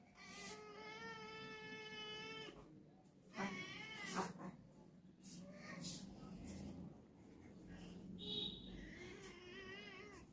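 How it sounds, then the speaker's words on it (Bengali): A pet cat meows repeatedly indoors, drawn-out plaintive calls close by and fairly soft, with a brief caterwaul-like cry. "কেমন মা বিড়ালের মতো করে ডাকছে লক্ষ্মী।"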